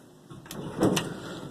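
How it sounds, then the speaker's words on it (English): Door of an older Otis Series 1 elevator in an office building in Wethersfield, CT, closing automatically: a soft rising slide followed by a couple of close thumps as it meets, over a faint background hum. "Door seems to close automatically."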